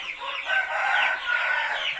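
Roosters crow and cluck inside a chicken farm coop, with bright, drawn-out crows overlapping in two swells over about two seconds, near and loud.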